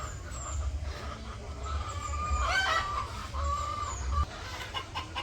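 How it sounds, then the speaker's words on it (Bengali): Village chickens cluck in scattered bursts as feed is brought to them, with a few short calls from the flock. The farmyard sound is moderately close, over a low background hum. "তো এইদিকে আবার এই যে ওমরের বাবা মুরগিরে খাবার দেওয়ার জন্য খাবার নিয়ে এসে যাইতেছে খাবার দিতে।"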